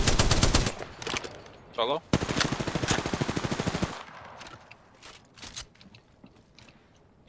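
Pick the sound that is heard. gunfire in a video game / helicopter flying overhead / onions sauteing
gunfire in a video game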